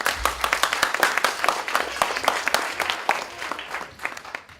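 A group of kids clap their hands in quick, irregular bursts during a classroom-style game of following hand commands, many sharp overlapping claps close by with no talking.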